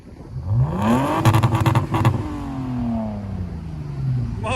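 A 2004 Lexus IS 300 with a muffler delete revs up sharply close by, climbing to a raspy peak and then falling away in a long, smooth decay as the revs drop back to idle.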